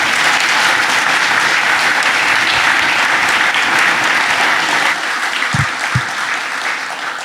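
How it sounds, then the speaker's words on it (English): An audience at a Halifax conference applauds panelists on stage, sustained dense clapping close and loud throughout, thinning slightly toward the end. "a round of applause for our team here."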